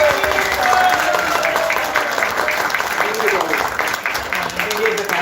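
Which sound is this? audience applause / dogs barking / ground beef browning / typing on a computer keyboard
audience applause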